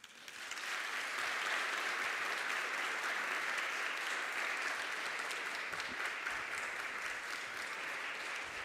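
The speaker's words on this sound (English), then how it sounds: "Thank you, friends, for keeping the applause going" A conference audience applauds at the end of a talk, a sustained, even wash of many hands clapping that rises quickly and carries on steadily at moderate volume.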